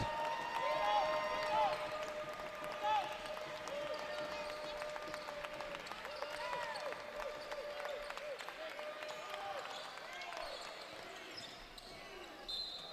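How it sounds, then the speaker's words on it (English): Basketball fans in a gym clap and cheer at a women's college game between CSU's Lady Cougars and Francis Marion, a steady wash of applause with sneaker squeaks and bouncing over a faint background. "the fans start to applaud here"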